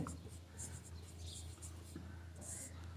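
Pen writing out geometry proof steps by hand for a class 8 maths exercise, a soft continuous scratching that runs steadily for a few seconds over a low steady hum, close and quiet.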